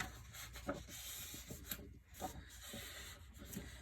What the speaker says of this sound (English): you want to actually fold on the score line, but you want to fold them away from you